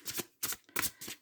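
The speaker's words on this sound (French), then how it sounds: "je vais tirer 6 cartes de l'oracle des clés du destin" Oracle cards, a deck called the keys of destiny, shuffled by hand in four quick riffling bursts with short gaps between them, close and fairly soft, with no talking.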